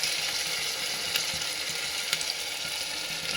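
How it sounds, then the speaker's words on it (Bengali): Papaya, potato and tomato pieces fry with ginger and garlic paste in a pan, giving a continuous close sizzle with occasional faint stirring clicks. "এগুলো একটু ভাজবো"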